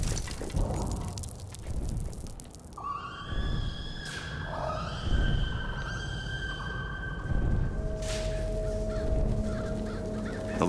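Crow cawing in the BioShock Infinite video game, several harsh harmonic calls spread across the clip over a dense game soundscape with no talk.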